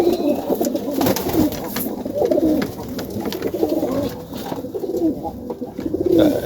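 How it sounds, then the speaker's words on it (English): A young tippler pigeon in a loft coos repeatedly in soft, rolling phrases close by on a cold winter morning, mixed with rustling, handling noises and other birds. "That's one of the young tipplers."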